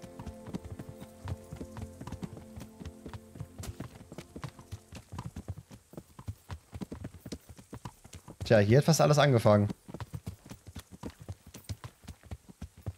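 Horse hooves clip-clop at a steady walking rhythm while riding in the video game Kingdom Come: Deliverance, close and continuous, with someone speaking German over them and a brief burst of louder game sound midway.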